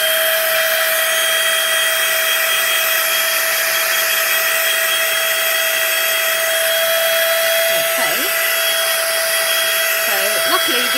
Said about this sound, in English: you have to just excuse me for a moment whilst obviously the heat tool is blasting.